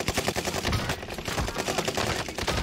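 Rapid bursts of automatic gunfire in the video game Warzone Caldera crackle in quick, dense volleys throughout, moderately loud and without speech.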